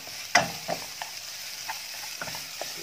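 A spoon stirs chicken kebab filling in a sizzling pan, with a few sharp scrapes and clinks over a steady low frying hiss; no one speaks.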